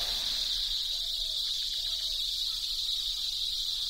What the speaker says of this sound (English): The cicada's love song is the loudest noise in the insect world.